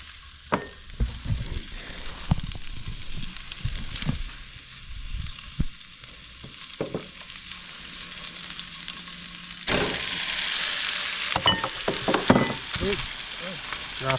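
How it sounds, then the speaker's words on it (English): Leftover potatoes and beef reheat together in one pan at a camp kitchen, crackling and sizzling steadily, with intermittent scraping stirs and clatter and a louder burst of sizzle partway through. "I'm going to cook both the potatoes and the beef all at the same time in this pan"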